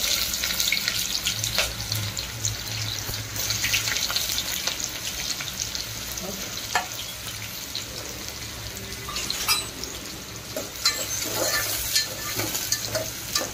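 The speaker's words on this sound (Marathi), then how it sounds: "कांदा चांगला फ्राय करून घेऊया, गुलाबी होईपर्यंत फ्राय करू" Sliced onion frying in a pan with whole spices for a Konkani-style chicken curry, a steady soft sizzle with scattered stirring clicks and scrapes throughout, moderately close and without talking.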